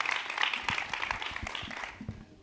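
Applause at a startup pitch event greets a presenter from the company Messiba International: a crowd's clapping, fairly close and moderately loud, thinning and fading out toward the end.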